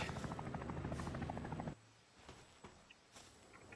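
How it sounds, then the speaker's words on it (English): An attack helicopter in the video game Palworld gives a loud, steady whirring roar for under two seconds, then cuts off abruptly, leaving only faint, scattered sounds. "Yeah, fuck you, attack chopper."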